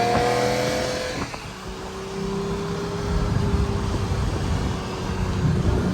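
Lamborghini Murcielago roadster pulling away with the roof down, its engine note rising to a steady, fairly loud drone after an initial burst, heard close with continuous road and wind noise.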